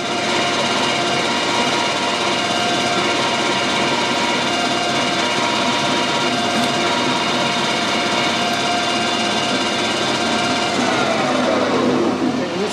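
A metal lathe runs with a steady, continuous mechanical whine while centre drilling the end of a bar, the hum holding evenly at close range for the whole stretch with no talking over it.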